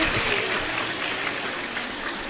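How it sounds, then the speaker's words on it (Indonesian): An audience at a school talk show claps for a guest speaker, a dense, continuous patter of applause that stays loud and even from start to finish. "Tepuk tangan dulu dong untuk Kak Zahwa."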